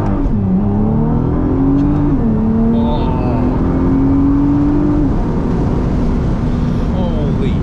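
Nissan R35 GT-R imported from Japan, engine revving loudly while driving, a steady close-up roar whose pitch climbs, dips and climbs again with the shifts, under constant wind rush.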